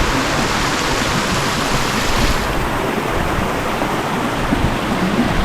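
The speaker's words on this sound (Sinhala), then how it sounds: "එක එක තටාක වගේ වතුර ඇවිල්ලා එකතු වෙලා තමයි පල්ලහැට වැටෙන්නේ" Water cascades down the Wadakada waterfall as a loud, unbroken roar, dense and close, with steady rushing noise and occasional wind buffeting the microphone.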